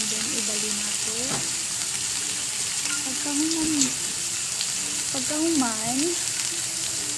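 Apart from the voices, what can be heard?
swordfish frying in a pan, marinated in lemon, salt and pepper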